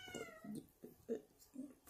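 A cat meows several times in short, separate calls spread across a quiet indoor room, each meow fairly close and clear.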